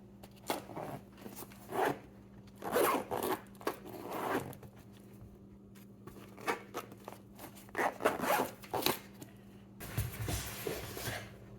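The zipper on an Evoc Multi Frame Pack is pulled closed in several short rasping bursts with pauses between them, close up and fairly quiet, with no talking.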